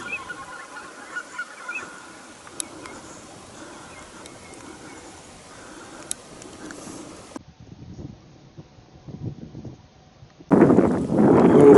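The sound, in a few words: geese honking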